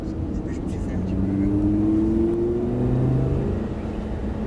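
A Lamborghini Gallardo on the Abbeville circuit accelerates with a steady rising engine drone, pitch climbing smoothly through the gear, heard from inside the car with an instructor speaking French over it.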